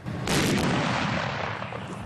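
A single heavy artillery gun fires with one loud, close boom that rolls out into a long decaying rumble, heard alone with no voices.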